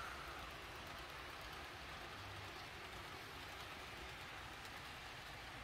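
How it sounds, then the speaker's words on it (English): A steady, continuous rumble and clatter of a Roco model freight train with 35 ore hopper cars rolling past, fairly quiet and unbroken, with a faint hiss over it. "That is 210 axles in the train"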